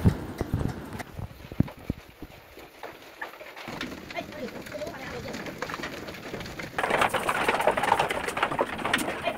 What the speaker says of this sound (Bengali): তারা কিন্তু হুড়োহুড়ি করেই ঘরে উঠে পড়ছে